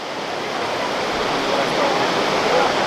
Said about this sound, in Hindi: तो हमारे जस्ट बगल में बह रही है अलकनंदा नदी